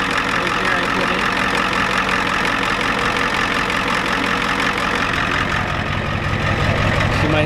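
Diesel engine of a 1993 Ford F-250 with the 7.3 IDI, idling steadily with a rough knocking clatter throughout, close and loud, with a possible exhaust leak and a loose muffler.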